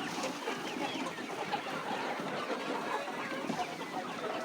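Layer chickens around three months old cluck and chatter softly in a coop, a steady low murmur of hen calls with no talking.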